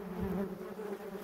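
Yellowjacket wasps buzz steadily at close range, an active swarm making a continuous, even hum with no voices.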